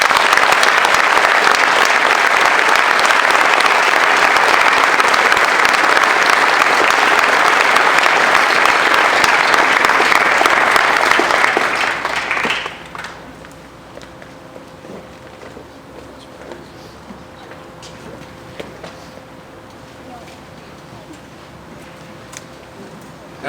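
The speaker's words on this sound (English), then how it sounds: "If you would please join me in a round of applause" Audience at a retirement event breaks into loud, dense applause for about twelve seconds, then it fades abruptly into quiet room sound with a few scattered claps and small noises.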